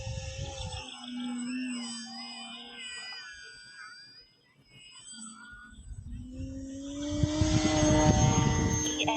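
Whining propeller hum rising and falling in pitch as a small Skynetic Sbach 342 foam RC plane flies slowly, fading briefly before growing louder and rougher.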